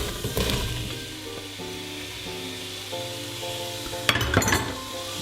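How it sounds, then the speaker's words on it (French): Onions frying with lamb juices in a pan for a lamb tajine, a continuous sizzle with occasional stirring scrapes and a few sharp metallic clinks of utensil on pan near the end. "Et maintenant on vient mettre les oignons."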